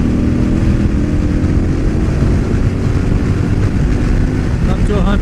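A KTM 1190 motorcycle on a sixth-gear roll-on from 75 mph roars steadily louder as it accelerates, heavy wind rush blending with the engine drone close at the rider's position.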